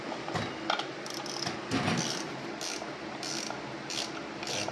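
A ratchet tightens a primary cover bolt on a Harley-Davidson Heritage Classic, giving close, rapid repeated clicking in several short bursts with brief pauses between strokes.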